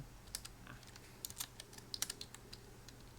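Quiet, scattered keystrokes tap on a computer keyboard as a place name is typed into a search, with soft irregular clicks and short pauses and no speech.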